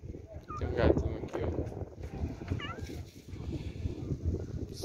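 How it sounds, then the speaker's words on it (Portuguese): A small kitten meows a few times at an animal protection shelter, its thin cries rising over steady background chatter and movement nearby. "Tem um gatinho."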